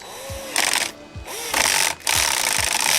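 Screws driven into the metal bar of a Sony XBR-65X900C 4K TV during a strobing-light repair, heard as several close bursts of whirring and ratcheting, each run pausing briefly before the next, with no talk.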